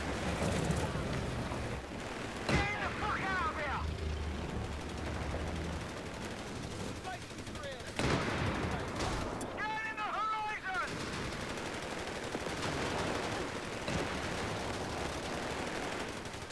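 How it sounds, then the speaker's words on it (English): A machine gun nest rattles out long bursts in a Company of Heroes 3 street fight in Italy, sharp single cracks and whining ricochets breaking through steady battle noise and wind. "blow up that machine gun nest. Just pinning everyone"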